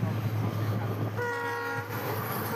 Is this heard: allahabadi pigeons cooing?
no